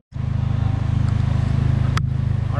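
A Mazda RX-7 fires up and runs on a dyno, giving a loud, close, steady pulsing engine drone with a rapid uneven rhythm and a brief sharp click partway through.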